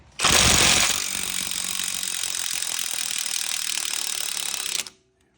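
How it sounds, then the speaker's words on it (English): A ratchet fitted with a 15 mm socket cranks hard on a seized, rusty strut bolt on a 2006-12 Ford Fusion front end, giving a loud, close, continuous rapid clicking that runs for several seconds before stopping abruptly. "We got a 15 millimeter here, and we're just gonna break her free."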